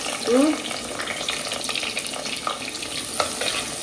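Shallots and garlic frying in a pan, with a soft sizzle and a few quick clinks and scrapes of a utensil, fairly close and moderately loud throughout.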